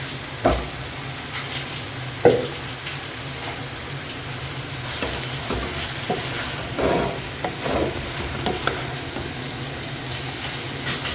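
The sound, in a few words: marinated white qeema (minced meat) frying and stirred in pan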